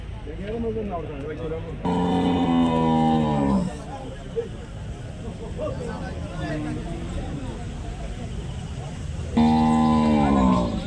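Buffalo lowing at a busy cattle market in Payyanad, Manjeri, Kerala, where mostly male Murrah buffaloes are traded: two long harmonic moos several seconds apart, loud and close, over steady crowd chatter and background noise.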